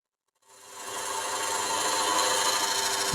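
A skew chisel cuts a dry wood bowl blank spinning on a lathe, giving a steady, close scraping rasp that starts after a brief silence and then holds evenly at moderate loudness.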